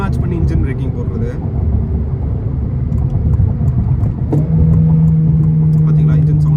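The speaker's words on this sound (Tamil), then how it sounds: "பார்த்தீங்களா, இன்ஜின் சவுண்ட் அதிகமாகுதா? 4th வந்து 3rd போனேன்." A Honda car engine drones loudly from inside the vehicle, then abruptly rises to a higher, sustained rev as it downshifts from fourth to third gear for engine braking.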